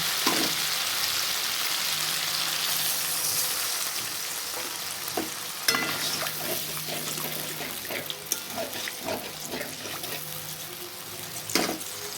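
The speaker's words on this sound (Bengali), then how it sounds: "মশলাটা আবার ভাজা হয়ে এসছে এরকম তেল লেগে যাচ্ছে কড়াইতে" A spice paste with oil frying in a kadai for a koi fish curry, a loud hiss that thins into crackling sputters and scattered spatula clicks, close up and uninterrupted by speech.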